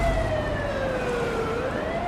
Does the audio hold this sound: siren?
yes